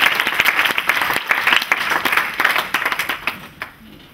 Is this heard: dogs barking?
no